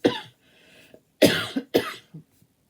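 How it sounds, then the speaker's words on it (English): A woman coughs in a few harsh, close bursts, with a pause before two stronger hacking coughs close together, at a morning indoor craft session. "There goes the morning cough."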